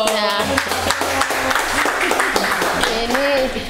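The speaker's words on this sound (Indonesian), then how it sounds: "Kita beri tepuk tangan dulu dong." An audience at an Indonesian talk event with a DPR RI Commission V member gives dense, continuous applause with distinct hand claps, and voices can be heard over it.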